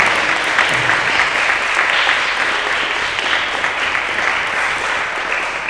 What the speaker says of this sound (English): Could you give the coaches another round of applause?